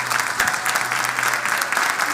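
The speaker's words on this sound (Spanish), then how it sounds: "Ok, le damos un aplauso" A church congregation claps throughout, a steady dense patter of many hands at moderate volume with a faint sustained tone beneath and no talking.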